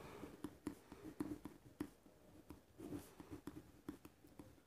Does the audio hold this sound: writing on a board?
yes